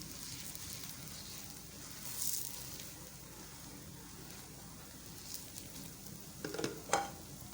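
Mooli paratha frying in ghee on a hot griddle gives a soft, steady sizzle heard close up, with a few light scrapes and taps near the end.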